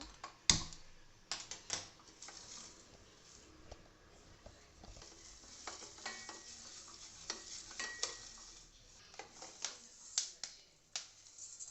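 Whole masoor lentils dry-roasting and being stirred in a pan, giving quiet scattered scraping, rattling and crackling ticks with irregular sharper clicks, faint and close, with no talking.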